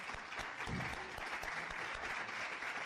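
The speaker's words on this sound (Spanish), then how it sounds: "un aplauso para Iván Ballesteros" An audience at a coaching forum applauds a speaker being introduced, with continuous, even clapping from many hands, fairly distant and soft, lasting the whole stretch.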